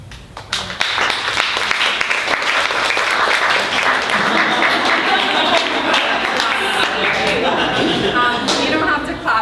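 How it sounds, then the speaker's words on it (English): Audience applauds after a poem reading at a bookstore event, a dense, close wash of clapping that holds steady for several seconds. "You don't have to clap in between."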